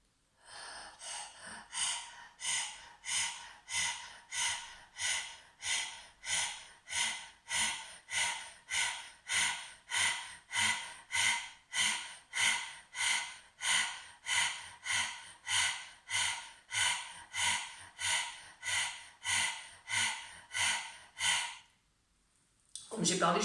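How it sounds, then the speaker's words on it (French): Deep meditative breathing, counted as one inhale and one exhale per breath: close, steady, even breaths repeating over and over in a slow, regular rhythm, with no talking. "vous comptez un inspire, un expire, c'est une respiration"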